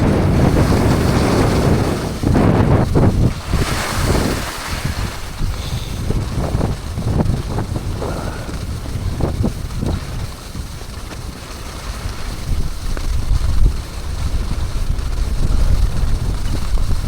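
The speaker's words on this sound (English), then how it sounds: "there's a bit of an headwind up here" Wind on a ski slope at Levi, Finland, buffets the microphone in a loud, continuous roar, with gusts swelling and easing over the whole stretch and no speech.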